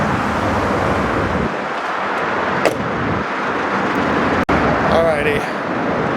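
Heavy motorway traffic roars steadily outside beside a lane blocked by a rescue vehicle during a tyre breakdown, a loud continuous rush with wind buffeting and one sharp click near the end.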